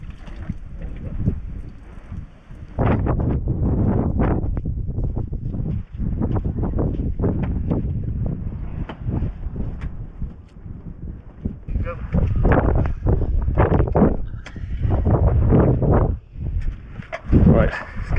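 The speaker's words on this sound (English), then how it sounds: "as you can probably hear, it is ridiculously windy at the moment" Strong wind buffets a camper van parked up in Cornwall, loud irregular gusts roaring and thumping against the microphone in repeated bursts, with some talk mixed in.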